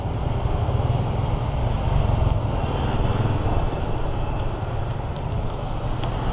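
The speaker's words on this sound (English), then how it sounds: "this bridge is just literally carrying thousands upon thousands of bikes" Heavy motorbike traffic streaming across a bridge over the Perfume River in Vietnam, a dense continuous rumble of engines mixed with wind buffeting the microphone, steady and loud throughout with no speech.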